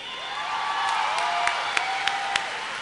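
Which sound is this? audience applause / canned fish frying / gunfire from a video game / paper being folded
audience applause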